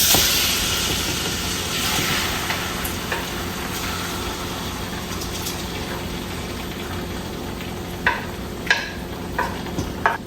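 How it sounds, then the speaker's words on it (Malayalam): Strained ada, the rice flakes for payasam, tipped into hot ghee where almonds were just fried, sizzling steadily throughout with occasional sharp scrapes and clinks of stirring toward the end. "ബദാമൊക്കെ ഫ്രൈ ചെയ്തെടുത്ത നെയ്യിലോട്ട് ഞാൻ ഈ സ്ട്രെയിൻ ചെയ്ത് വെച്ച അട ചേർക്കാൻ പോവാ."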